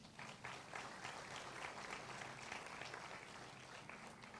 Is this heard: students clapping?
yes